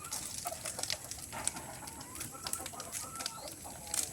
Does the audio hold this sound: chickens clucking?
yes